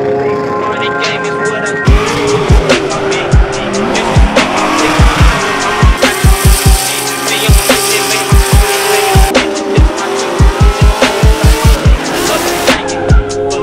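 A drift car runs practice laps on a wet-drying track during a drift event, its engine revving hard over and over with rapid bouncing limiter bursts and long tire squeals. The car is loud and close throughout.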